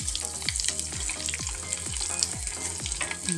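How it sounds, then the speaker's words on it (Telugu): Tempering spices with asafoetida crackle and sizzle in hot oil, with a dense steady frying hiss and repeated stirring scrapes through the whole stretch, no voices. "తిరగమాత వేగిపోయినట్లుంది"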